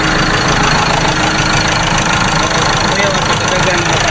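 Ford Ranger 2.2 engine running under test for a problem, a loud steady mechanical drone with turbo whine and exhaust noise, close by and continuous throughout.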